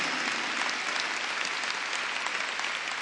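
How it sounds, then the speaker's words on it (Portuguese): A large church audience at a Catholic renewal gathering applauds in a steady, dense wash of clapping that stays even and sustained from start to finish, with no other sound standing out. "Vamos aplaudir de verdade a palavra de Deus."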